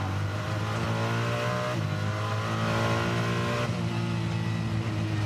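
Ferrari GT race car, number 26, racing at Bathurst and heading down Conrod Straight: a loud engine drones and climbs through the revs, with upshifts breaking the pitch twice, heard steadily and without talk.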